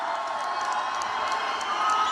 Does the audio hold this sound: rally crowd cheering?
yes